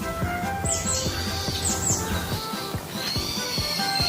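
Cartoon bird chirping, the tooni bird, with repeated bright tweets and squawky calls in quick bursts, sitting over a steady background of music and clicks.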